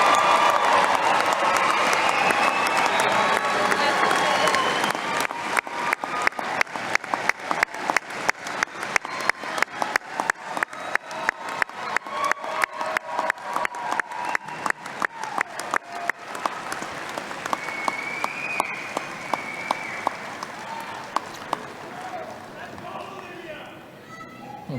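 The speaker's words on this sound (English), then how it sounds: "give our graduates a 2022 round of applause" A 2022 commencement crowd cheers and applauds, loud at first, then becomes a long run of regular rhythmic claps that slowly fade toward the end, with some shouting mixed in.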